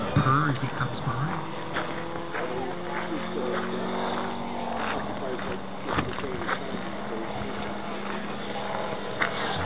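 A biplane with a 250 radial engine of 20 horsepower passes by at an air show, its steady purring drone rising and falling over about ten seconds beneath outdoor ambience and talk.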